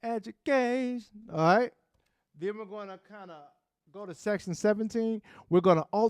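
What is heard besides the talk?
None of the usual background noises is heard.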